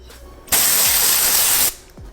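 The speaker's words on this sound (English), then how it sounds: "The next dry shampoo is going to be the Detox Dry Shampoo by DRYBAR." A single continuous spray of DRYBAR Detox dry shampoo from an aerosol can, a loud, close, steady hiss lasting just over a second between quiet moments.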